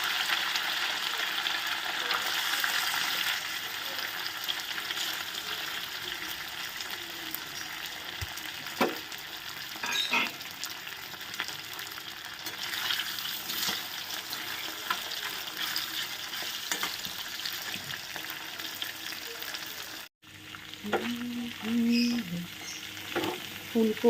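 Bhetki fish pieces coated in cornflour frying in hot white oil, a continuous close sizzle with occasional utensil clinks and stirring, a short break near the end, and no voices.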